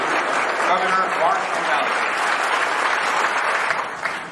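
Dense, steady applause from an audience gathered in a mosque fills the space, with a few cheers mixed in and a voice speaking over the clapping at the start before it thins near the end.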